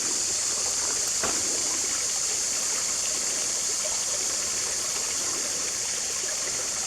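A creek in French Creek State Park runs over rocks, giving a steady, even rush of water that holds at one level throughout, fairly close and with no voices.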